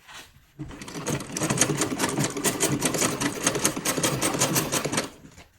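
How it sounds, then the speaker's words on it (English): Sewing machine stitching ankara fabric for a beaded asymmetric dress, running steadily for about five seconds after a short start, a dense rapid needle rattle with no talk. "as I stitch, I'm going to remove my pins"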